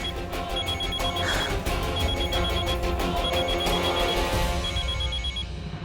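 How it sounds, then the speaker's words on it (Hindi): A telephone rings steadily and loudly, its electronic tone repeating without pause, with no voices over it. "फोन उठाओ ना।"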